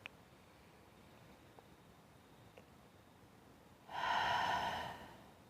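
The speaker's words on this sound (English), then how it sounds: "When you breathe out through your mouth" A slow breath out through the mouth during a guided meditation, a soft airy exhale rising after a quiet pause and fading over about a second, close and alone.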